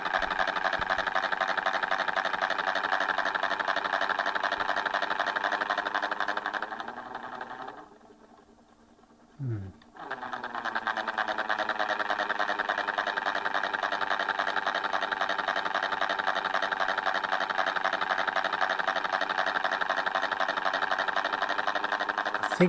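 A small motor spins the disc of a homemade mechanical TV with a steady whirring, buzzing drone that cuts out briefly in the middle, then spins back up to the same continuous hum.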